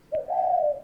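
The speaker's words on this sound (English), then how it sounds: "What's in there? Baby birds." Caged baby birds giving a single soft, sustained cooing call, close and clear, with no talk.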